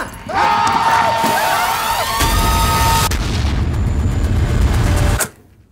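Gunfire and heavy booms in a film trailer, loud and continuous over a dense, sweeping score and effects, with a sustained rumble cutting off abruptly near the end.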